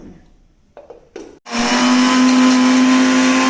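A few brief knocks, then a mixer grinder starts up grinding chutney, running with a loud, steady whirring roar.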